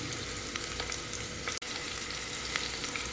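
Chopped shallots, ginger and green chillies fry in a pan for wheat upma, a constant close sizzle with a brief dropout in the middle and no voices.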